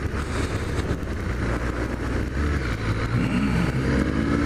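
A motor scooter engine drones close by, its pitch rising slightly as it passes, with steady road noise throughout and no talking.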